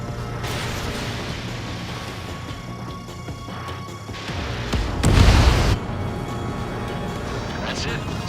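An enemy bomber explodes after being shot down in Ace Combat 7, a loud booming blast around the middle that swells briefly above steady jet engine drone, with radio chatter around it.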